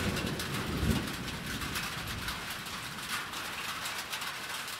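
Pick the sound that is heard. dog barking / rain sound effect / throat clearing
rain sound effect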